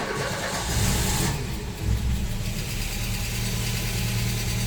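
Audi 80 engine cranking and catching after a throttle cable repair, then running in a loud steady rumble that settles toward idle, heard close with no talk.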